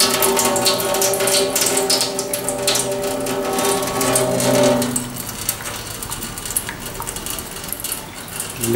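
A running tap left on for Lottie, a shelter cat, gives a continuous rushing, splattering stream that carries on steadily, then drops slightly in level partway through while water keeps flowing.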